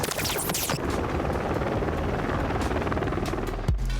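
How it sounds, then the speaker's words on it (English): A helicopter thrums loudly and continuously with a fast rotor chop in a competitive Rainbow Six Siege match on the Border map, with brief sharp game effects early on and near the end. "In the sky, it's a helicopter, easy."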